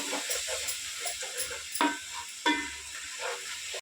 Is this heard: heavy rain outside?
no